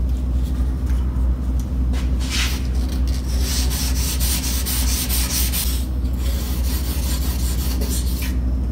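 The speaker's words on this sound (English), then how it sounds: "we're going to try wet sanding part of this light to see what it does" Wet sanding a Duramax truck headlight lens by hand with 3M 1000 grit wet-or-dry sandpaper: a steady, close, continuous gritty rubbing with repeated back-and-forth strokes, heard alone without talk.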